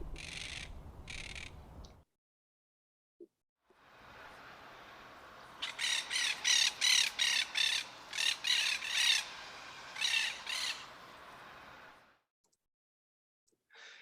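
Parrots recorded in Florida and Arizona give harsh, rasping squawks, first a short pair, then after a gap a rapid run of loud, repeated calls over a faint hiss, ending with one more call.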